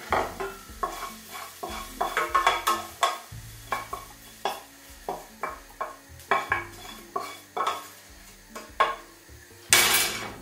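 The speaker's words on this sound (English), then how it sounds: "keep on moving that around because the fry pan is hot" A Mongolian beef mixture is stirred in a hot fry pan, with repeated close utensil scrapes and clanks over a soft sizzle in uneven bursts, ending in a brief louder hiss, with no speech.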